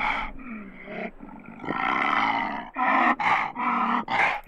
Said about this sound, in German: Wollen wir uns kurz mal anhören, wie ein Leopard klingt, wenn er brüllt?